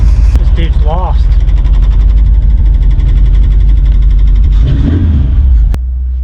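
A car engine runs loud and close at a car show, with a steady low rumble and a brief rev before it cuts off near the end, and people talk over it.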